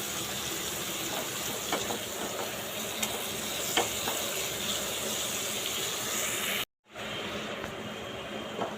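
Fish curry (jhol) with pieces of fish and potato bubbles and sizzles steadily in a pan, a continuous close bubbling hiss with faint scrapes, broken by a brief cut to silence near the end.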